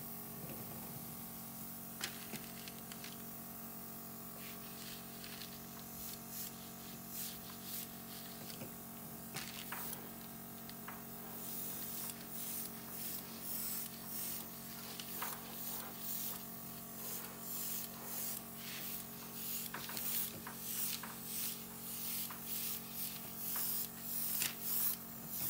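An airbrush sprays color onto a decorated cake in short, repeated hissing bursts over a steady mechanical hum from the compressor, the spurts growing more frequent and slightly louder toward the end.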